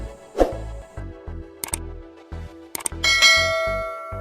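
A notification bell sound effect rings out as a short series of clear dings over a low pulsing beat, ending in a brighter, longer chime.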